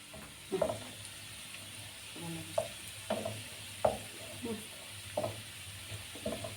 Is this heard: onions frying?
yes